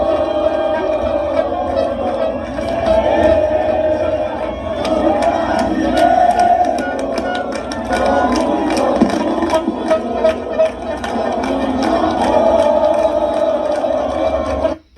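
A large crowd gathered at a rally in Brazil makes a dense, continuous roar of voices, with shouts and cheers rising and falling and occasional sharp claps or whoops on top.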